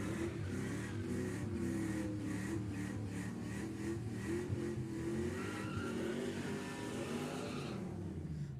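A front-wheel-drive Ford Fiesta out of Folsom, California, runs at a fast-Ford drag racing event. Its engine revs hard and steady in a loud, continuous roar with a faint tire squeal, and the sound tapers slightly toward the end.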